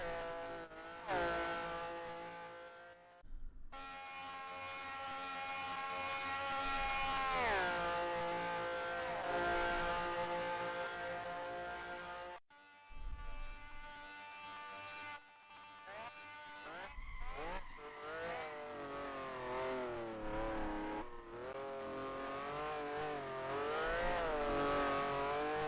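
A Ferrari race car engine in a sim racing game wails at high revs, rising and falling through gear changes and braking, with brief tire squeal and short gaps, loud and close.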